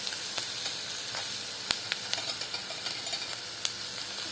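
Curry leaves sizzle in hot oil while an egg paniyaram mixture is prepared, a steady close crackling hiss with scattered sharp pops, no voices.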